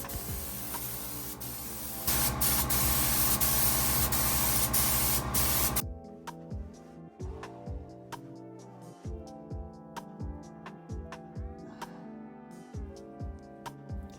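Loud continuous hiss of an aerosol spray painting the dashboard of a 1965 Ford F100 with the windshield still in, then it cuts off into quieter clicks, tapping and rhythmic knocking of a plain tonal mechanical sound.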